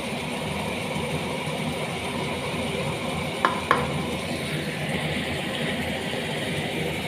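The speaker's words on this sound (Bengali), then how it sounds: "টমেটোটা দিয়েছি, দিয়ে মশলাটা এবার দিয়ে দেবো, দিয়ে কষিয়ে নেবো।" Tomato and spice paste for a bata fish curry fries in a pan with a low, continuous sizzle over background hum, broken by two brief sharp clinks near the middle.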